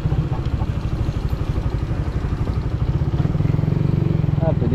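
A motorcycle engine runs steadily nearby with a rhythmic low throb and some clatter as it weaves through traffic on a long land trip across Mindanao, its pulse quickening toward the end.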